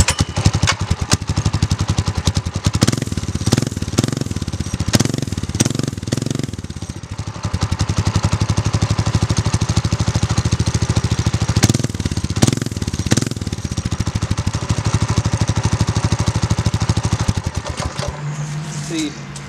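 A Predator 212cc small engine with an Apollo aftermarket exhaust revs repeatedly in sharp bursts, then holds a loud, raspy, steady run before cutting off; the exhaust note is brash and close.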